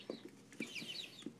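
Chickens on a home flock, some being treated with antibiotics, give soft, scattered clucks and short calls, faint and somewhat distant, with a few quick notes spaced irregularly.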